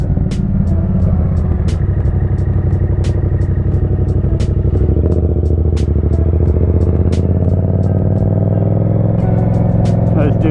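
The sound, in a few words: Yamaha FZ-07 motorcycle engine revving for clutch-up wheelie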